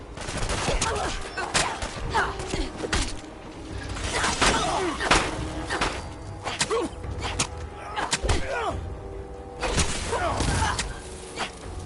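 Fallout 4 firefight with repeated bursts of gunfire and heavy impacts spread throughout, mixed with shouting voices and other game noise.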